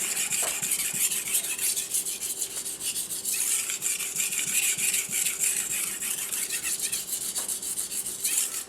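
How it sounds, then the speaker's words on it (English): Knife drawn across a Latte 400 grit sharpening stone at about 15 degrees, a continuous gritty rasping scrape in steady back-and-forth strokes, close and fairly loud. "I am sharpening at about 15 degrees. I already have a bevel on the knife."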